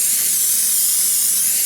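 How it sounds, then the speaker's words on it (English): Pam vegetable cooking spray is sprayed into a pan for a turkey meatloaf: one continuous, close, fairly loud hiss lasting under two seconds, with no talking. "Any old spray would work. I use Pam vegetable."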